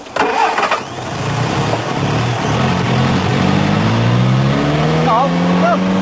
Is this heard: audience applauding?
no